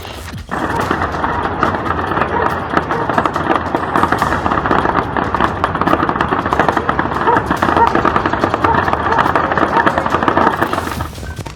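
Loud, sustained gunfire aimed at drones, rapid overlapping shots in a continuous barrage lasting several seconds before stopping abruptly.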